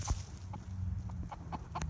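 Young pet chickens about fifteen weeks old cluck softly in short scattered notes close by, against quiet background noise.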